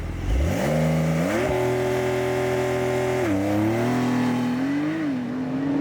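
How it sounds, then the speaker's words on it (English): A Porsche 911 of the 992 generation makes a launch control start in Sport Plus, its engine revving hard and climbing through quick gear changes, loud and close with smooth rising pitch steps. "That was a launch control in Sport Plus"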